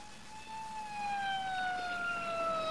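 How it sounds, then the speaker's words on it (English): An ambulance siren wails alone at a moderate distance, one long steady tone with a gently falling pitch, set against low road rumble. "Sounds like an ambulance."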